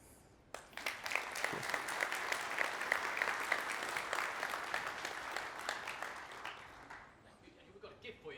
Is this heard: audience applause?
yes